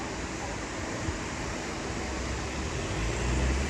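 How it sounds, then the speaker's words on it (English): Steady broadband traffic rush from cars passing on a city street in Frankfurt's Bahnhofsviertel, a continuous wash of road noise with low rumble swelling slightly toward the end, no distinct voices. "I didn't want to get in the way of these cars coming through here"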